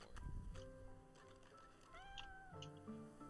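A pet cat in the video game Divinity Original Sin 2 meows several times over a game soundtrack, with rising and falling tonal calls that are clear and close.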